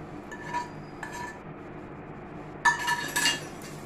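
A spoon scrapes and clinks against a metal vessel as tempering is stirred into cooked samba rice for gotsu sambasadham, with a few light taps early on and then a louder cluster of clinks near the end.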